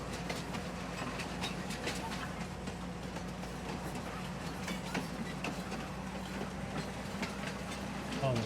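A train car rolling in the Farming Simulator 19 video game, a steady mechanical rumble with a low hum and faint rhythmic clicking throughout, continuous and moderately loud.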